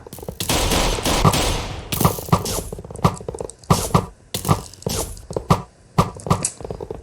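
Sharp bursts of Minecraft gunfire crack in quick irregular volleys, some rapid and clustered, others single, with brief pauses between.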